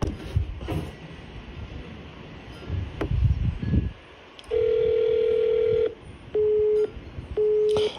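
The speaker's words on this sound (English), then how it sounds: "Let's call Gandu back" Telephone call tones on a line: after some muffled handling noise, a long steady tone sounds, then two shorter repeated beeps with gaps between them, loud and close.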